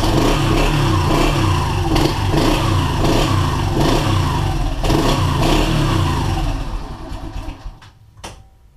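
A cold Yamaha TTR125 dirt bike engine runs and revs in a loud, close, buzzing putter with uneven throttle bursts, then fades and cuts out near the end, followed by a brief sharp click.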